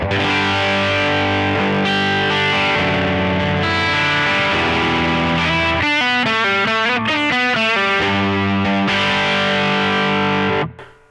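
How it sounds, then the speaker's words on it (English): Electric guitar strummed through a Boss OD-200 X Drive overdrive, ringing sustained distorted chords with a choppier rhythmic stretch midway, loud and steady throughout before a quick fade at the end, no talking. "Then we come on to the X Drive, which is one of the Boss proprietary overdrives."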